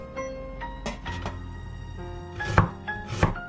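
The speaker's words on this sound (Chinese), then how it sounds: "姜切成丝之后再切成丁" A knife chops shredded ginger into small dice on a cutting board in a home kitchen, with several sharp, irregular chops close by over a quiet background hum.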